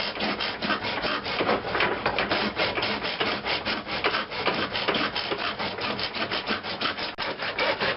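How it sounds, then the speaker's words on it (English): A hand saw cuts through a seal installer tube held in a miter box, a steady rapid rhythm of back-and-forth rasping strokes, close and continuous with no voices. "So now I'm just cutting this in a miter box because I want a nice perpendicular surface on this."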